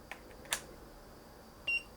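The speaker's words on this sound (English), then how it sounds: "the oscilloscope beep uses a different beeper to the other one" Short electronic beeps from a small beeper on an oscilloscope circuit board, a few faint brief tones spaced apart in a quiet room, with one clearer sustained beep near the end.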